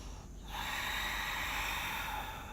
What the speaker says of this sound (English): Take a nice deep inhale and an exhale.